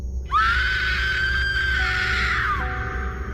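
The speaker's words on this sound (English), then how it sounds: "I heard another woman scream." A woman's high-pitched scream, one long sustained shriek lasting over two seconds, loud and close, set as a horror story sound effect over a low background rumble.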